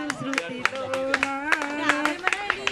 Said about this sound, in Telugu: క్లాప్స్ కొట్టండి, క్లాప్స్.